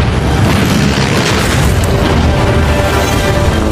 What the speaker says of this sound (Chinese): 轰炸机直接一顿投弹